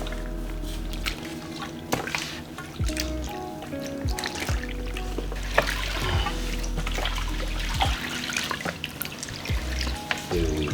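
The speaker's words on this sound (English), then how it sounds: "I should probably add more water." Water trickles and drips into a dye bath while fabric for a sweatsuit is being dyed, a close, uneven splashing with scattered clinks and knocks of handling.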